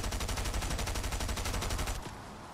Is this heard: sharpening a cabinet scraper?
no